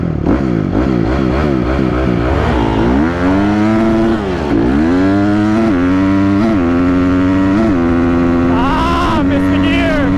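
A stock Honda CRF 250R dirt bike and a stock Yamaha Raptor quad race flat out, engines rising and dropping through the gears, with one missed gear where the revs sag before climbing again, loud and close.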